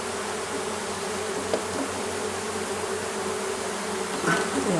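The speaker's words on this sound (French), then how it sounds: "abeilles bien sûr dans le fond de la ruchette, on va les récupérer après" Honey bees buzz at a nucleus hive during a transfer into a full hive, a close, steady, dense hum that carries throughout with no talking.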